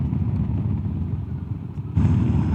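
A Zontes 350E maxi scooter is ridden through small twisty roads, a steady low engine drone with wind rush that jumps louder near the end, with no talk.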